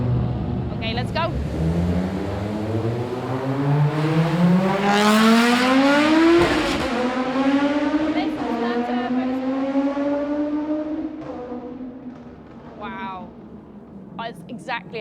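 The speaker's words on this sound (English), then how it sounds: "as you could hear a Group B car come ripping past you at a rally" An Audi Group B rally car tears through a tunnel on a rolling start, its engine howling up through the gears, swelling loud and close as it rips past, then fading with echoing revs and pops. A voice speaks over it.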